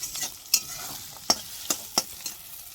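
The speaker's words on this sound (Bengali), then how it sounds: "এবার এই সয়াবিনটা দিয়ে দেবো, দিলাম, নেড়ে নেব।" Soya chunks fried in oil in a kadai, a faint sizzle under a handful of sharp clinks and scrapes as a spoon stirs them around the pan.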